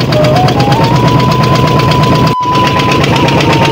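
The engine of the Maa Ambika tourist boat heading to an island at Mukutmanipur chugs loudly and steadily close by, a rapid knocking throb with a whining tone riding over it.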